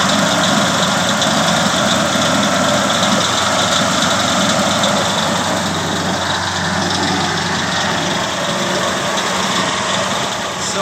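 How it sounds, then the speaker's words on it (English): A steady, smooth engine idle from a 1949 Ford F-5 truck runs close by for the whole stretch, a low even hum with a faint whine and light mechanical noise on top. "That engine is so quiet."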